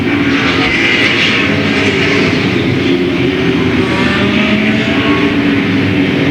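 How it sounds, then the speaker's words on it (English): Late model stock cars racing on an oval speedway, Louisville Motor Speedway in 1995, with a loud, continuous roar of many engines at full throttle, engine tones shifting as cars pass, no talk over it. "Larry Metters has cut down a right front tire on his machine, and he slows coming out of turn number 2."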